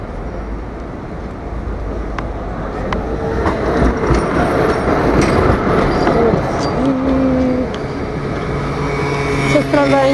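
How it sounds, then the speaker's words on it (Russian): A tram rolls past on a Belgrade street in the evening, a loud close rumble of wheels on rails with clicking joints and brief metallic squeals, building and easing over the span amid street background. "Там трамвай идет."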